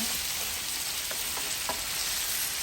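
Chayote sizzling in a hot pan for a chayote and mussel dish, a dense continuous fry with a few soft scraping stirs layered over it, close and fairly loud.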